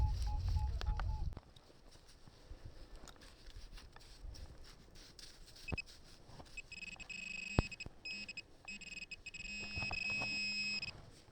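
Metal detector signalling a fairly deep target during a relic hunt in the Polish Jura, a few sharp electronic beeps and tones over quiet outdoor background, with a loud burst at the start and brief handling noises.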